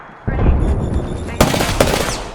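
A frag grenade goes off in a battle-royale shooter game, a sudden loud blast followed by two more sharp cracks amid ongoing gunfire-like bursts, close and dense, without clear speech.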